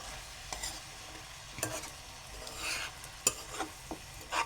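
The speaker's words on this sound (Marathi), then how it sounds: "ही बघा अशी ढवळून घ्यायची." Fenugreek (methi) greens stirred in a cooking pan make a series of soft, scraping swishes with light sizzling, spaced irregularly and close by, with no talk.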